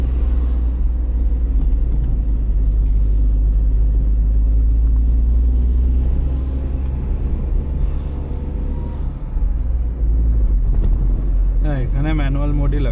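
A Tata Tiago NRG car climbs the Penukonda ghat road in second gear, its engine giving a steady, heavy low rumble close by throughout. Voices come in near the end.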